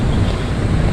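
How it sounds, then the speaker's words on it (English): Strong wind buffets the microphone in a busy town plaza in Naga City, Philippines, a steady loud low roar filling the whole moment. "and it's quite windy as well."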